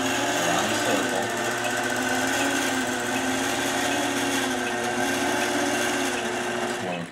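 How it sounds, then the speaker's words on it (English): A sewing machine runs continuously at steady speed while stitching a circle with a Quiltazoid quilting attachment, giving a dense, close, even mechanical whir with a rapid rhythmic needle chatter throughout. "We'll simply turn on the sewing machine"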